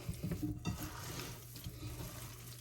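Seasoned chicken wings are worked by hand in oil, giving wet, squelching, sticky sounds that are quiet, close and continuous, with small soft slaps.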